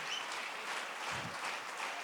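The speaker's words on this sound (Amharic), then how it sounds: "እህታችን መቲ በጣም እያጨበጨባችሁ ተቀበሏት" Church audience at New Creation Church clapping to welcome a woman named Meti, a dense, steady wash of applause slightly distant in a large hall.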